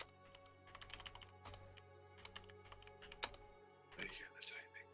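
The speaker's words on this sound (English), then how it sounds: "I hear the typing." Rapid clicking keystrokes on a computer keyboard come in quick bursts with short pauses, fairly close, followed by a brief stretch of talking.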